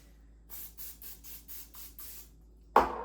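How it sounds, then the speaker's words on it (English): Eight short, evenly spaced hissing bursts from a cooking spray can into a bowl, then a sharp clunk at the end. "Spray your bowl that it's gonna rise in"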